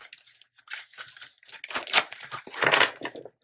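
Tarot cards riffle and slap together in short bursts, a close papery shuffling that stops and starts several times.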